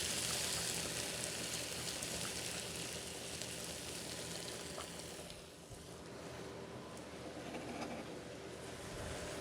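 Bacon, garlic and onion frying in a pan, a soft, steady hiss and sizzle that carries on for about nine seconds, quiet and with no talk.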